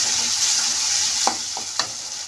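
Tomatoes being stirred into chillies frying in oil, a loud, even sizzle with a couple of quick spatula scrapes near the end and no speech.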